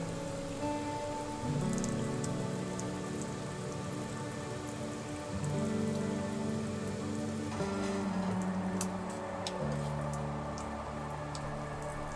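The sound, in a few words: heavy rain on a DIY kei truck camper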